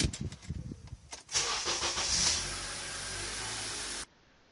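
A 2003 Honda Accord EX cranks after a positive battery cable replacement, with a few starter clicks, then the engine catches into a loud roar that settles to a steady idle before cutting off abruptly.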